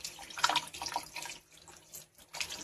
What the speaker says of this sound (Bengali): কেমন লাগছে আম ধুয়ে